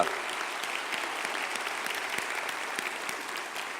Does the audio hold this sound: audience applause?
yes